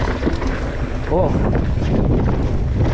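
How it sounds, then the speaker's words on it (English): Strong wind buffeting the microphone at a Bay Area kiteboarding spot, a loud, continuous rushing roar with gusty swells throughout. "A little windy today, so we're not gonna hit these jumps. Actually, it's like a lot windy."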